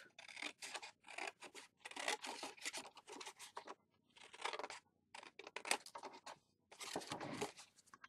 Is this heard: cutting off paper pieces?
yes